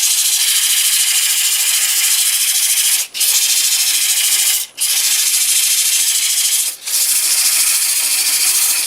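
A wooden bowl is sanded by hand with sheets of sandpaper, giving a loud, steady, close rasping hiss that breaks off three times in brief pauses.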